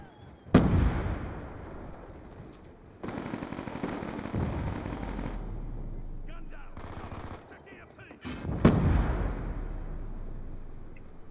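Frag grenade explosions in Call of Duty Black Ops 2 multiplayer: a few loud, sharp blasts with rumbling tails amid ongoing game gunfire and combat noise.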